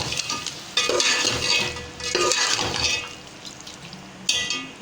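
A spoon stirring chicken, chickpeas and rice with allspice, bay leaves and black pepper in a pot, as several scraping, sizzling strokes in bursts with short pauses between them, close up and with no talking.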